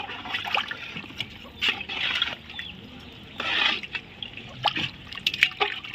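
Water is poured into a pot of chicken dum biryani with rice and stirred, trickling and splashing in short bursts with light scraping and sloshing, close and fairly soft.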